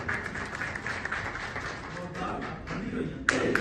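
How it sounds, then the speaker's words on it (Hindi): A reception crowd claps steadily in a room, a dense patter of hands that continues for several seconds with a brief louder burst near the end, mixed with some voices. "प्लीज तालियां।"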